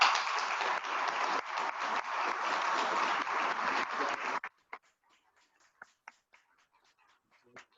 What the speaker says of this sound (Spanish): ahorita le daremos un fuerte aplauso.